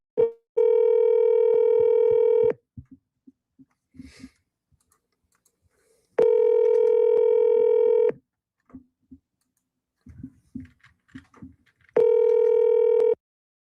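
Three long steady phone tones, each lasting about two seconds, are separated by stretches of quiet clicks and small knocks, like a call being dialed and ringing out.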